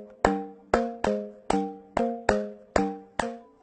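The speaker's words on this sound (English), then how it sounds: "there's a trend towards this rhythm that you might call the dembo rhythm" A repeating dembow rhythm beat: eight sharp, evenly punchy percussive hits with tonal, pitched decay, looping in a syncopated pattern, loud and clear with no voices.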